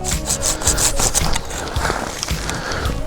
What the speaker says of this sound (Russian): И обязательно пилим на кольцо, то есть максимально ближе к основной древесине ветви.